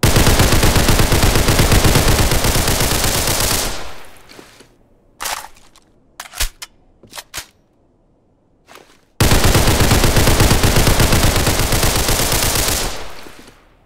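Roblox Criminality gun fired from a crouch during a recoil test: a long, loud burst of automatic fire, a gap with a few scattered sharp shots, then a second sustained burst just as loud.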